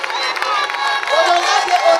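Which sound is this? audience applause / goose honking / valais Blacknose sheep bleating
audience applause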